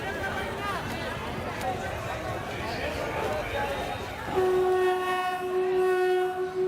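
A jam-packed train rumbles past amid crowd chatter at a railway station in Uttar Pradesh, then a loud, sustained horn blares steadily for the last couple of seconds.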